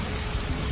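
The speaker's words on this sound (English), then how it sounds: "How did the rain increase like in such a short span of time?" Steady heavy rain in the Assassin's Creed Shadows video game, a dense continuous hiss and patter with no breaks, filling the whole brief moment without any voices.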